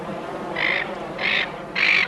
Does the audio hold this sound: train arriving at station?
no